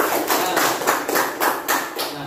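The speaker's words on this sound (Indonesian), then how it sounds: "Tepuk tangan dulu ya." Students in a classroom clap their hands together in a steady rhythm of about seven clear claps, close and fairly loud, with no talking over them.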